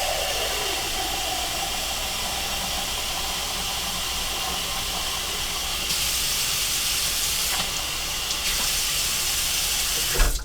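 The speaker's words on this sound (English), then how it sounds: "I'm going to go ahead and add my 8 bouillon cubes into 1 quart of water." Water runs steadily from a tap into a pot for egg drop soup, a continuous close hiss of filling that briefly brightens and shifts partway through before ending with a small clatter.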